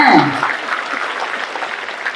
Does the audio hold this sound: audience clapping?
yes